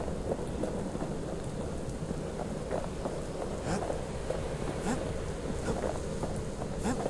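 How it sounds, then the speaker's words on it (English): Steady rain falls in the Bastion video game, a dense hiss with scattered droplet taps and soft rumbling thunder underneath, continuous and fairly close throughout. "All these rains wanna make me sad."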